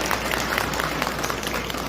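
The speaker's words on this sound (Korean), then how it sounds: "두 사람의 따뜻한 박수 부탁드리겠습니다" Wedding guests at a ceremony give a warm round of applause for the couple, a close, dense clatter of many hands clapping steadily.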